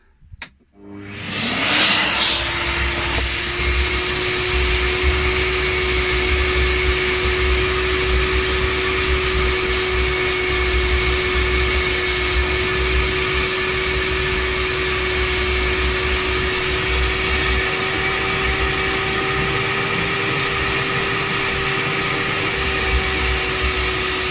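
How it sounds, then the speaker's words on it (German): A vacuum cleaner fitted only with its coarse filter and no paper filter starts up and then runs loud and steady with a constant high whine, used while swapping pool filter sand for filter glass. "Der Sauger selber hat im Moment nur den Grobfilter dran, also keinen Papierfilter oder irgendwas anderes."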